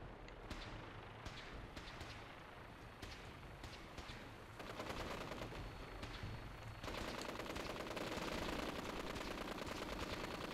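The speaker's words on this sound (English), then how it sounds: "Let's go with the machine gun" Machine gun fire from Fallout 4 rattles continuously in dense rapid bursts, growing louder and heavier toward the end, with no talk over it.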